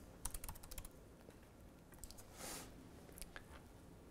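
Quick bursts of keystrokes on a computer keyboard as a username is typed, uneven clicks clustered in short runs, fairly close and quiet with no talking.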